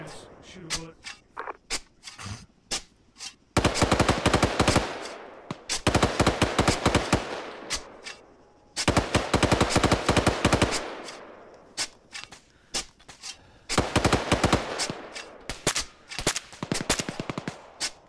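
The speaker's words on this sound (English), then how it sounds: "Shoot a bullet." Gunfire in the military video game Arma, rapid automatic bursts and scattered single shots coming in dense volleys over about eighteen seconds, loud and close, with faint talk underneath between bursts.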